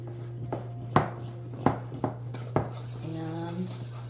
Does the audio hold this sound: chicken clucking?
no